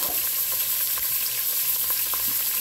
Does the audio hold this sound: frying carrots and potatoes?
yes